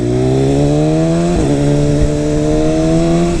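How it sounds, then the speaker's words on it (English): A 2018 BMW S1000RR motorcycle fitted with an Akrapovic exhaust, its loud engine held at a steady rev close by with a smoothly rising pitch, a brief dip and blip midway, and no talking. "my exhaust is pretty loud now"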